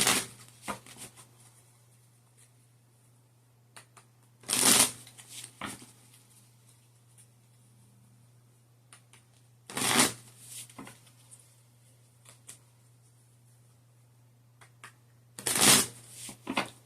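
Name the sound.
tarot cards being shuffled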